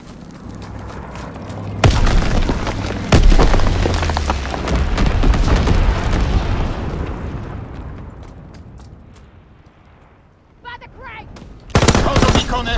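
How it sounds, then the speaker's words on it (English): Incendiary bombs dropped by an enemy bomber explode with loud booming blasts, mixed with machine-gun fire, during a Domination match on the London Docks map in Call of Duty: WWII. The barrage swells, fades out, and then erupts again. "Enemy bomber, incendiary bombs incoming!"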